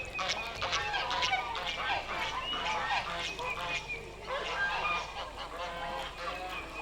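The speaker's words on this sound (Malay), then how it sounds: "sambil dengar bunyi bunyi itik-itik tu semua. Itik angsa." A flock of geese and ducks at a zoo honks continuously, a dense overlapping chorus of nasal calls at moderate distance, with some quacking mixed in.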